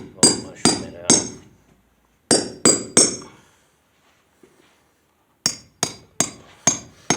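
Hammer blows mushroom a bolt end on a concrete anchor for a church pew, sharp metallic strikes in three close groups of three to five hits with short pauses between.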